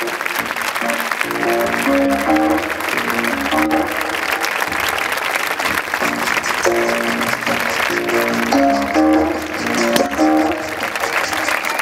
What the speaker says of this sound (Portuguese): Forte aplauso a todos os manequins aqui presentes e às criadoras.